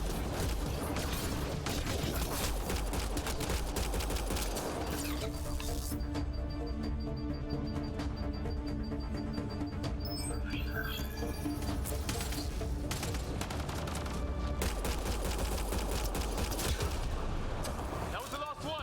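Sci-fi gunfire in Mass Effect: Andromeda, bursts of shots and impacts mixed with combat noise and music across the whole stretch, with voices calling out over the fighting.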